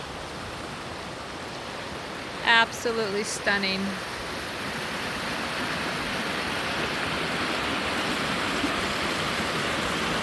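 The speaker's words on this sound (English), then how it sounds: "Look at this gorgeous river." The Clearwater River rushes steadily in a mountain wilderness, a dense, even broadband roar of flowing water that fills the whole scene, close by, with a person briefly speaking over it.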